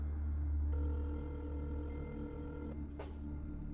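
An incoming call rings on a telephone in a sci-fi tabletop role-playing session, a steady electronic tone holding over a low hum before a brief burst near the end.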